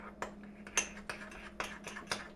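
A utensil mixing a garlic and parsley spread in a bowl gives soft, quiet taps and scrapes in a loose, repeating rhythm, close by.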